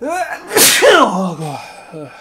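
A single loud, close sneeze bursting out in the middle of a few words of talk, during a German-language video game session.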